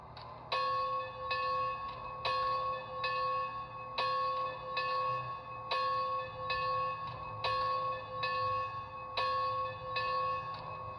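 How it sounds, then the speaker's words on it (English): An electronic locomotive bell from a Bachmann Spectrum HO scale 2-8-0 Consolidation DCC sound module rings in a steady repeating clang, struck about every half second, thin and tinny, with nothing else playing. "We're gonna do number 1, which is the bell."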